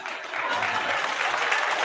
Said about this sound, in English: I wonder why they're clapping.